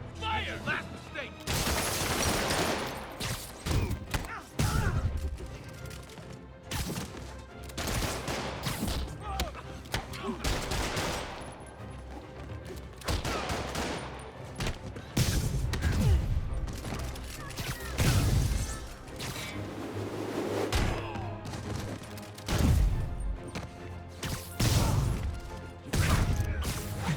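Gunfire and crashing impacts during a fight in Marvel's Spider-Man Remastered, with repeated loud bursts, booms and smashes scattered across a long stretch of busy combat, mixed with voices talking.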